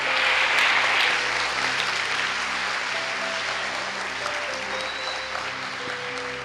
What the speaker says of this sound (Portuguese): Palmas para Jesus, cara!